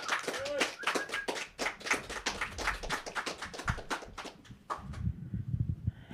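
Audience applause for a poetry performer at a live spoken-word show, a dense burst of clapping that fills most of the clip and thins out toward the end, with voices talking under it.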